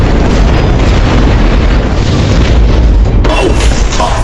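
A huge explosion in the casino action film From Vegas to Macau 2 roars as a loud, sustained rumbling boom that fills the whole clip, with a sharp shift in the blast noise near the end and no talking.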